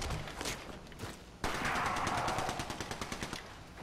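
Rapid automatic weapon fire in the Apex Legends shooter game, sustained and fairly loud, with a sharper burst partway through and steady repeated shots to the end.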